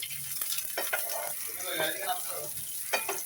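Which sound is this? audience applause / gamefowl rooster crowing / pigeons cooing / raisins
raisins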